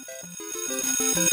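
A school bell plays a short chiming electronic melody of stepped tones, clear and alone, lasting just over a second.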